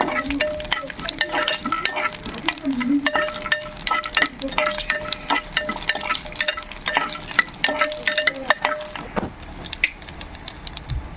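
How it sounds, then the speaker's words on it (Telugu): Green chillies frying in a little oil, a steady close crackle with stirring scrapes and faint background music, the sizzle thinning near the end. "పచ్చిమిర్చి కొంచెం ఆయిల్లో వేగితే మంచి టేస్ట్గా ఉంటుంది"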